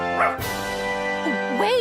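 A cartoon dog gives a short yip, then drawn-out whimpering whines that rise and fall, close and fairly loud, with faint voice-like sound mixed in.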